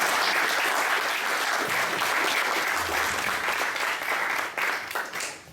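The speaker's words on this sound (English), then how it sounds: "can we just give our speakers a really big round of" A conference audience at the Southend and District Reform Synagogue gives its speakers a big round of applause: dense, loud clapping held steady for several seconds, then thinning and fading in the final moments.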